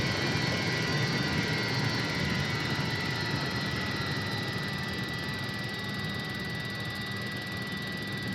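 Avro Vulcan jet engines in a flight simulator, steady loud roar and whine held constant throughout as the bomber's throttle is advanced to start rolling.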